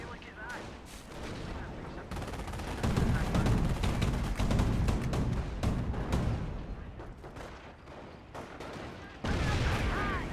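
Rapid bursts of gunfire and artillery crackle through a Company of Heroes battle, dense and continuous with heavier booms, under a commentator's voice.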